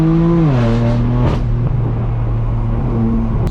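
A straight-piped BMW M4 F82 pulls away from an early-morning car meet, its loud exhaust note rising as it revs and then settling into a deep, steady drone close by.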